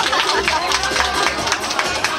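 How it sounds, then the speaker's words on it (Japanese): A crowd at a Halloween costume contest applauds a departing contestant, scattered clapping mixed with crowd chatter and murmuring voices throughout the short stretch. "どうぞ大きな拍手でお見送りください"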